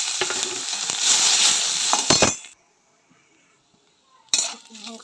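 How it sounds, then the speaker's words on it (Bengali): Dried red chilli, panch phoron and bay leaf fry in hot oil with a bright, close sizzle and clinks of a utensil against the pan, then the sound drops to near silence before another burst of frying and stirring. "লঙ্কা পাঁচফোড়নটা ভাজা ভাজা হয়ে গেছে,"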